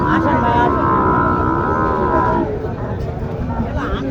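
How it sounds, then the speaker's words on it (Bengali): A Sahiwal and Holstein Friesian cross cow at a village cattle market moos loudly and close, one long drawn-out call that fades out, with crowd noise and voices around it. "এই গরুটা একটু দেখি এবার একটু"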